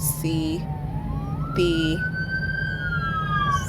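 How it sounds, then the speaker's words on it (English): A siren wails in the distance, its tone rising and sliding, while a person speaks briefly in short phrases over it. "sorry about that siren"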